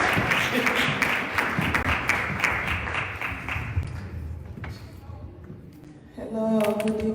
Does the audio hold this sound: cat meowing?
no